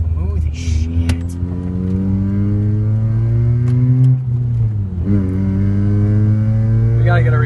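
A Mazda RX8 rotary engine revs through downshifts from inside the car, giving a loud steady drone that rises in pitch, dips briefly, and climbs again. Brief voices are heard over it.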